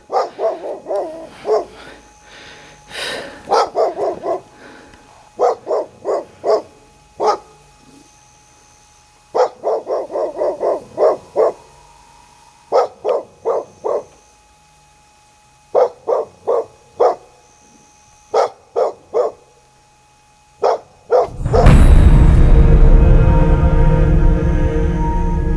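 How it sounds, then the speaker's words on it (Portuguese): A dog barks from somewhere above, in repeated clusters of two to four sharp barks separated by pauses over about twenty seconds, fairly loud, ending with a burst of louder broadband noise. "o cachorro latiu lá em cima"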